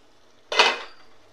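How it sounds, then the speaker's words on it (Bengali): A single sharp metallic clatter as a pot lid comes off a pan of hing paneer, followed by a brief fading ring. "ঢাকনাটা তুলে নিলাম।"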